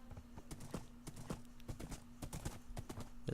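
A horse in the Minecraft video game clip-clops along in a steady run of light hoof steps, faint and evenly paced over a low constant hum.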